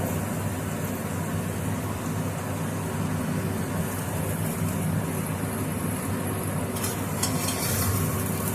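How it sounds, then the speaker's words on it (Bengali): Cauliflower-stuffed paratha frying in hot oil in a pan over a low gas flame gives a continuous close, even hiss and sizzle, with a slight crackle toward the end and no talking. "তেলটা গরম হয়ে গেছে। এবার আমি একটা পরোটা দিয়ে দিই।"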